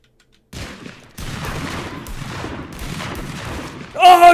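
Bursts of gunfire in the Totally Accurate Battle Zone video game, starting after a short silence and continuing as a steady rattling volley, ending in a louder burst.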